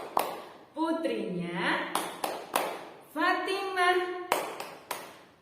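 Rhythmic hand claps accompany a children's tepuk Nabi chant about the Prophet's family, a voice chanting over sharp, regularly spaced claps throughout.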